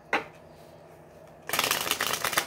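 Tarot cards are riffled briskly, a quick snap at first, then a dense, crisp flutter of shuffling that continues steadily to the end.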